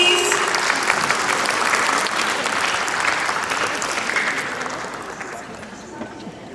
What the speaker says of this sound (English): Can we have some round of applause,